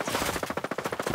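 Rapid automatic gunfire in a Ghost Recon Breakpoint firefight at an R&D centre, a dense burst of about a dozen close, loud shots in quick succession with no pause.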